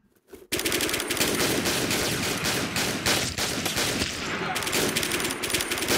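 Dense, continuous automatic gunfire from the online shooter Warmode, with rapid overlapping bursts that start abruptly after a brief quiet moment and stay loud and close throughout.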